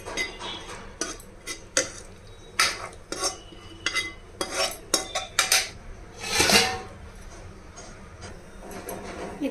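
Tomato and coriander chutney is crushed and pounded, with repeated irregular thuds and clinks of utensils against a dish, loud and close with short pauses between strokes.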